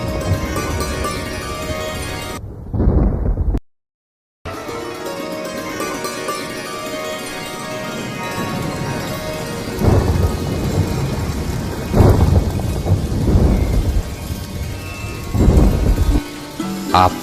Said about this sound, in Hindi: देखिए आ पहुंची रिमझिम बारिश की